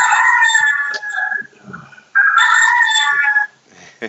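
A rooster-crowing ringtone plays on a phone indoors, two loud crowing calls separated by a short pause, each bright and drawn out, heard clearly with no talking over it.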